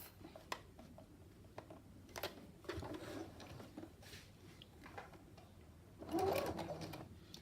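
A sewing machine stitches a quilted, lined zipper purse in short runs of quick, soft mechanical whirring and tapping, close and quiet, with a busier burst near the end.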